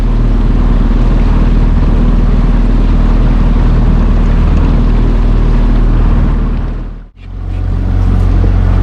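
A motorboat speeding across a lake, its loud close engine roar and rushing water and wind continuous, briefly dropping out for an instant near the end before resuming.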